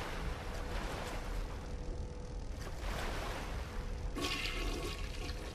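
A toilet flushes in the video game Bioshock, a continuous rushing gurgle of water lasting several seconds, with a fresh surge of draining water near the end and no talking.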